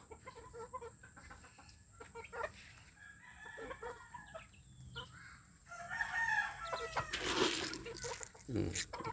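Roosters crow several times at close range, with clucking in between and quiet voices now and then in the background.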